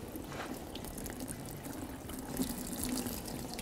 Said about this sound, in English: When you pull this off, the wash fluid's going to come out.